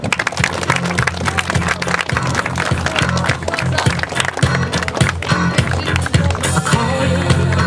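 Crowd applause for the best players at a football tournament awards and closing ceremony, a dense steady patter of clapping that continues throughout at close range, with a low background hum.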